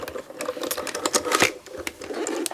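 A Diamond Press side-pull die cutting machine rolls a die through in a steady, rapid mechanical clatter of close ticking and rattling that lasts throughout.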